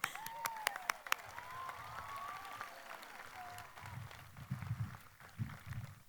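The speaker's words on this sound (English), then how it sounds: "Give yourself a round of applause." Graduates at a 2022 high school commencement applaud, a faint, distant wash of crowd clapping with a few sharp nearby claps and cheers, and low voices murmuring under it.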